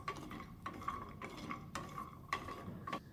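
Cinnamon stick, nutmeg and black peppercorns are stirred as they dry-roast in a pan for Coto Makassar, a spatula scraping and knocking against the metal in an irregular rhythm with faint rattling spices, close and fairly quiet.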